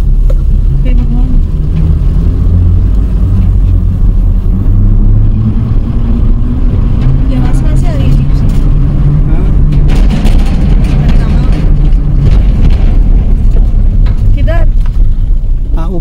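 A car drives slowly over a rough, dried-up road, its low engine rumble steady and close throughout, with people talking over it.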